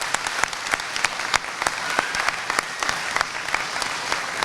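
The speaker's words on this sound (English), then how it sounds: "Let's give us a round of applause." A crowd at a high school commencement applauding the graduating class, steady moderately loud clapping with distinct individual claps standing out, no speech over it.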